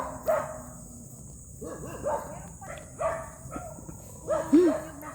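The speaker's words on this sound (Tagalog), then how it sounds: "And you can hear the dogs" Dogs bark on a farm, sounding at a moderate distance in scattered short bursts and yips, with a few whimpering tones mixed in among quieter background sounds.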